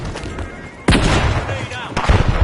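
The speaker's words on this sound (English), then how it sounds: "Frag out!" A frag grenade explodes in the video game The Finals with a sudden loud blast and a sustained roar of debris, followed moments later by a second burst amid ongoing game sounds and voices.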